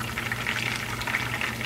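Fish and chips frying in a pan, a steady close bubbling sizzle of hot oil that holds level and unbroken throughout, with no voices.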